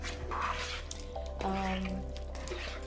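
Vinegar poured onto a cucumber salad gives a faint, brief liquid trickle and drip, heard over a steady low hum with a muffled voice in the background.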